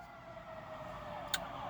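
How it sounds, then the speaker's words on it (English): Fire truck sirens wail steadily in traffic, a sustained tonal siren over street noise, moderately loud and continuous, with a brief sharp click partway through. "So these sirens, I'm sorry, fire trucks."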